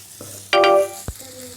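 Green brinjal fry with grated coconut being stirred in hot oil, a loud burst of sizzling and scraping lasting under half a second, followed by a short knock of the utensil against the pan, no talking.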